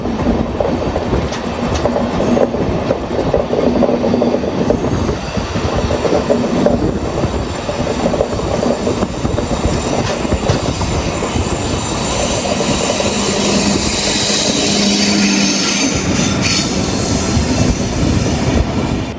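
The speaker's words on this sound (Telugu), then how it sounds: "ఇప్పుడు ట్రైన్ అయితే నాన్ స్టాప్ వెళ్తుంది అనమాట" An express train running non-stop on rails, loud and continuous, with a constant rumble, rhythmic clatter and occasional high wheel squeal.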